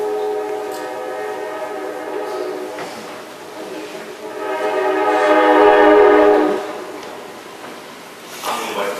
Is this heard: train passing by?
yes